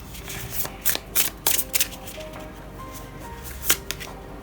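Tarot cards are shuffled by hand in short riffling bursts, several quick crisp flurries separated by pauses, close and clear with no talking.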